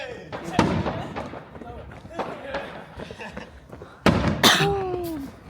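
New Year fireworks burst in a series of sharp bangs and crackles, with a louder cluster toward the end, while people talk and cheer over them.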